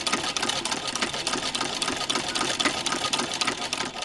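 A Singer 15-88 sewing machine fitted with a zigzagger stitches fabric at a steady fast whirr, with a dense mechanical chatter close up and no talking.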